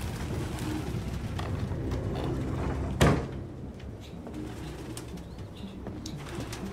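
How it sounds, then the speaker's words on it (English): Pigeons or doves coo softly outdoors amid steady background noise, with a sudden sharp burst of wing flapping or a thud near the middle before the low cooing continues. "A lot of birds here."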